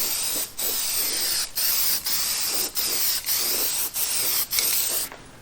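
A spray can applies rust reformer paint to a Chevy Nova firewall in a series of loud, close hissing bursts separated by brief pauses, about eight sprays in a row.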